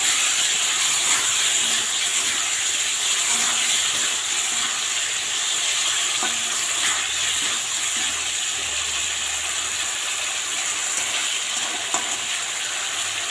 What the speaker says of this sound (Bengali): এই মশলাটা এখন আমি এর মধ্যে কষিয়ে নেব